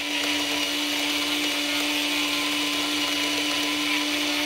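Close and loud, a spinning Dremel rotary tool keeps up an unbroken high whine while sanding wood inlay work, its motor hum holding steady the whole time with no voices over it.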